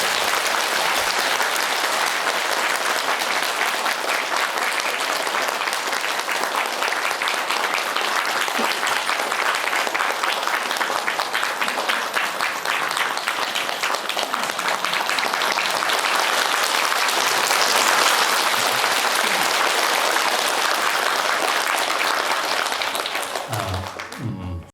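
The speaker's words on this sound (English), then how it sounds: "let us all together give our warmest and most heartfelt applause to welcome Khenpo Sodargye to the stage" A large audience at an entrepreneurship event gives sustained, dense applause to welcome a speaker to the stage, steady and loud for over twenty seconds before tapering off abruptly at the end.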